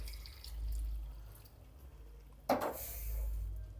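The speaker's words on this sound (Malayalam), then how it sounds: "കുറച്ച് വെള്ളം ഒഴിച്ചു കൊടുക്കുക" A short burst of heated water splashes into a pot of curry midway through, brief and fairly close, with low background hum before and after.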